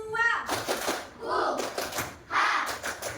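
Schoolchildren in a classroom chant the 'tepuk semangat' spirit cheer with rhythmic clapping, voices and claps mixed in short rising and falling bursts, near and moderately loud.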